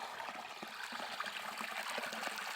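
Water trickles through narrow rock crevices at a hillside pool site, a faint, steady babble with small splashes close by.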